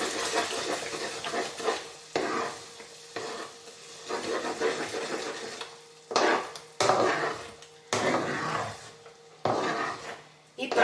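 A spoon stirs a rum-soaked raisin mixture in a pot for caramel sherbet, giving repeated scraping and sloshing strokes with short pauses between them, close and moderately loud with no talk.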